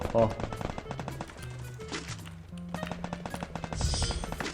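Rapid bursts of gunfire from a 4v4 team shooter video game, dense and punchy shots layered over game music and effects, with a player talking over the action.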